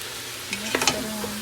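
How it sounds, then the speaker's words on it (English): Ground beef dumped into a hot pan for chili sets off a soft sizzle, punctuated by a few quick thuds and clatters in the middle and a faint tonal hum, with no one speaking. "Now we're gonna add our ground beef. Dump it all in."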